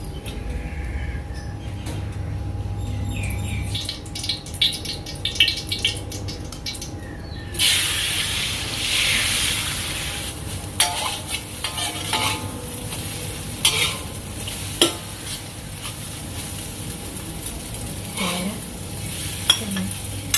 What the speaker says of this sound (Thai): เดี๋ยวจะมาทอดไข่ก่อนนะคะ